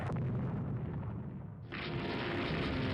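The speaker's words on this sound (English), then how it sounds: "More hits with torpedoes." Torpedo hits on warships in Rule the Waves 2: a deep rumbling boom that fades, then a second heavy blast with a bright, sustained roar, loud and dense with no voices.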